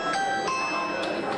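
A doorbell camera chime rings in a home-security setting, with a few bright tonal notes struck in quick succession over a steady, busy background.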